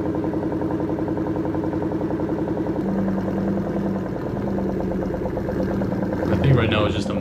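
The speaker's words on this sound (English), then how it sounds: "Man, the exhaust sounds good." A cammed Ford Mustang Mach 1 exhaust with a muffler delete idles with a steady, throaty rumble close by, a faint voice briefly rising over it near the end.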